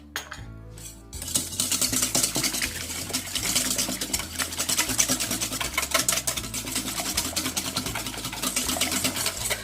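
Ingredients with mayonnaise and a half teaspoon of salt whisked briskly in a bowl, a fast continuous metallic clatter and scraping over steady rhythmic background music.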